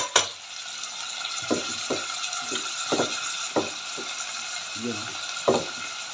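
Bitter gourd tossed into a pan of sautéed garlic and onion sizzles steadily while a spatula scrapes and clinks against the pan in repeated sharp strokes, and a voice speaks briefly.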